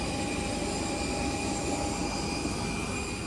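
A Pegasus Airlines airliner at the airport produces a steady, continuous engine drone with a high whine, moderately loud and unbroken, with no voices over it.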